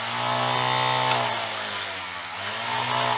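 A Black + Decker LST201 20V cordless string trimmer with a 10-inch cutting swath runs steadily at full speed, a loud, continuous motor whine with a close, buzzing tone.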